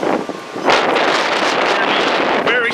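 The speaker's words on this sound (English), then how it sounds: "Very strong winds and it's very cold outside here." Strong, cold wind buffets the microphone outdoors beside open water, a loud continuous roar with gusty surges.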